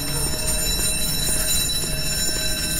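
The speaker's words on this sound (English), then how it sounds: "I hear bells." Continuous loud ringing of alarm bells aboard the sinking Titanic in a video game, a dense, harsh metallic clangor filling the space steadily without pause.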